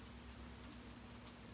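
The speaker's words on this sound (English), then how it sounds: "So it's raining." Rain falls steadily past midnight outdoors beside a camp stove, a dense even hiss with faint scattered drops and no voices.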